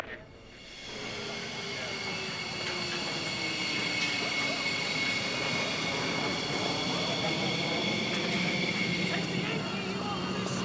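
A fighter aircraft's jet engine roars steadily with a high whine, swelling during the first second and then holding loud and continuous, with a voice speaking over it.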